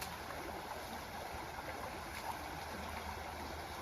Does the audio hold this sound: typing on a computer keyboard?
no